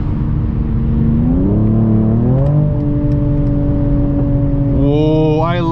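A 2022 Mercedes-AMG CLS53 facelift engine accelerating on the road, revving smoothly upward through the gears with a steady, loud drone and a rising pitch near the end, heard from inside the car.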